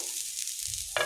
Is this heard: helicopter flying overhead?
no